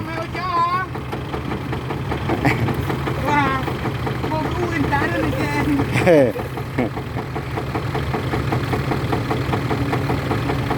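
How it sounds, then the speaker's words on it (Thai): A tractor engine runs steadily at a fairly close distance, with a continuous mid-low drone, while people talk over it during farm work with soil. "เออเดี๋ยวเอารถไถไปดึงหน้าเลยใส่ดินนี่ก่อน"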